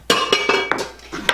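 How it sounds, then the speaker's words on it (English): Spices such as onion powder, garlic powder and salt, along with other ingredients, dumped into a blender: several sharp clinking knocks of utensils against the blender jar, close and fairly loud, spaced across a short moment. "So we'll just dump all that into our blender."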